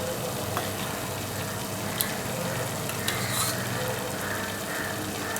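Masala sizzles and is stirred in a pan as yogurt goes in, a steady frying hiss with a few sharp clicks of a utensil against the pan, close and moderately loud.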